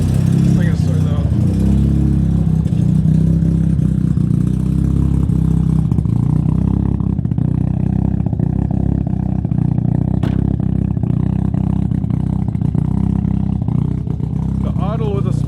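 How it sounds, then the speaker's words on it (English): A Mazda RX7 rotary engine with split timing idles loud and close inside a garage, a heavy, uneven rumbling drone that runs steadily throughout with slight wobbles in its rhythm, while someone talks over it. "The idle with the split timing is a little bit wonky."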